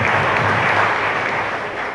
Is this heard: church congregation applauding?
yes